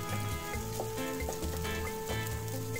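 Ginger sautéing in hot oil for a coconut mango fish curry gives a close, continuous sizzle that runs steadily beneath rhythmic background music.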